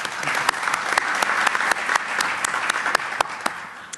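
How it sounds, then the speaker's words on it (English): An audience at a Florida health care summit applauds steadily for several seconds, a dense patter of claps with a few sharper hand hits standing out near the front. "Please give him a warm round of applause."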